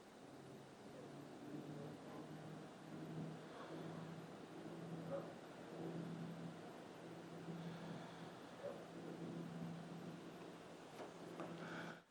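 ASUS ProArt PA401 PC case fans, including a 120mm rear fan, run at full RPM with a faint, steady, even whir and low hum throughout.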